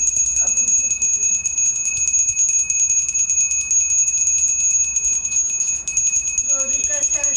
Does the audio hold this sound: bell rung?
yes